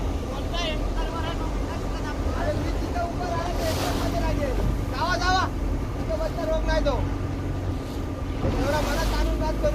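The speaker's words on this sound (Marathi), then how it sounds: "आणि आता बोट सुरू झालेली आहे" A boat out at sea with its engine running, giving a steady low rumble mixed with wind noise while people talk over it throughout.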